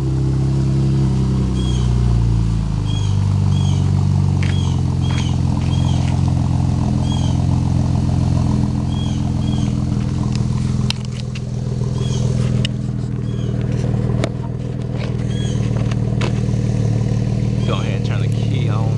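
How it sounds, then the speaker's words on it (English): A Chevrolet Camaro with a muffler delete, still fitted with four catalytic converters and two resonators, idling with a steady deep exhaust rumble. Someone talks over it throughout, and faint bird chirps are heard. "Sucker's insanely loud for having the cats and resonators still on it."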